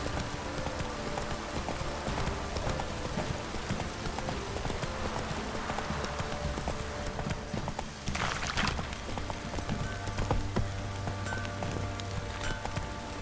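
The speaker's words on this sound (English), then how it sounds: "This downpour's a bastard, it is." Heavy downpour in The Witcher 3, a steady dense hiss of rain filling the scene throughout, with rhythmic horse hoof clip-clops running underneath and a brief louder burst partway through.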